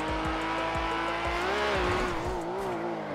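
Skyline GTR R34 drifting under handbrake in GTA V: a steady engine drone with tire squeal sliding up and down in pitch over repeated low thumps, loud and close throughout.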